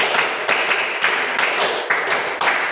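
Group hand clapping in a classroom clapping game, a sharp burst of claps repeating in a regular pattern, loud and close, with no talking over it.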